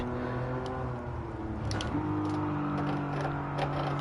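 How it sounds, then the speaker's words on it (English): A race car engine in Gran Turismo 7 revs and surges steadily under throttle through a corner, with rising and falling pitch and brief higher whines, loud and continuous with no talk. "The car sounds good actually"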